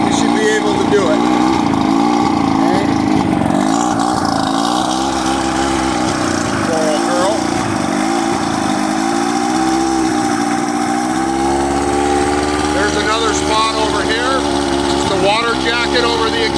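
An old JohnnyRude outboard motor runs steadily at low speed, a loud continuous throbbing drone with wavering pitch, while someone talks over it.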